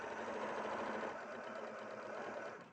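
A sewing machine stitches in a steady, fast mechanical whir at close range, running continuously and then stopping at the end.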